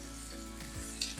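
Vegetables and rice with scrambled egg and leftover chicken stir-frying in a pan, a short soft steady sizzle with faint stirring at moderate distance, no voices.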